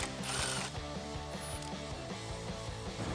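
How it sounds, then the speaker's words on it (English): A 10mm socket on a ratchet backing out coolant reservoir bolts in a 2011-2021 Dodge Charger 5.7L HEMI engine bay, a rapid run of close, crisp clicks in quick bursts, with no talking. "Just going to remove those two bolts."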